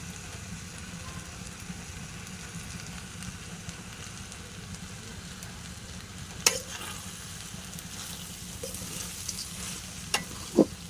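Onion, garlic, chili and round potatoes frying for khichuri give a steady, soft sizzle throughout, with a couple of sharp utensil clinks near the end; no one speaks.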